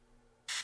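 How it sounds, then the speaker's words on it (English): An airbrush spraying primer paint gives one short, sharp hiss of air near the end, close and brief after a quiet moment. "it sprays perfectly no matter what with the small sprays"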